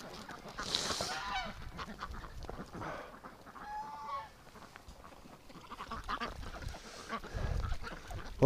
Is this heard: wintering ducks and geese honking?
yes